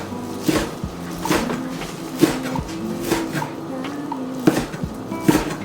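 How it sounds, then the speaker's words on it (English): A knife chops dried shrimps into smaller pieces on a cutting board, giving a series of light, irregular taps about a second apart, close by and moderately loud. "I'm going to cut it into smaller pieces."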